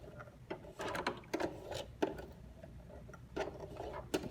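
A hand-cranked sewing machine turned slowly while a messenger bag is stitched, giving irregular mechanical clicks and whirring bursts at a moderate level with no talking.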